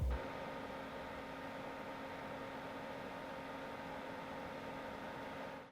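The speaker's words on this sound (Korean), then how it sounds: "이게 지금 제품에서 팬 소리가 나요." Cooling fan of a Zeus L1300 beam projector in a quiet room at night: a faint, steady airy whir with a low hum, constant and close, with no talking.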